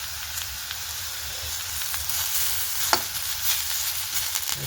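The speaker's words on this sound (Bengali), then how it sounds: "ভাজা হয়ে যাবে, পটপট আওয়াজ হচ্ছে" Food sizzles steadily in a hot pan, a constant bright hiss scattered with small crackles and one sharper pop, heard up close with no talking.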